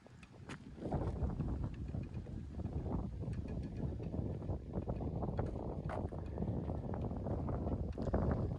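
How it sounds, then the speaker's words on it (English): Strong gusty wind near Portland Head Light buffets the microphone in a continuous low rumble, rising and falling without pause and with no talking. "It's a pretty windy day today."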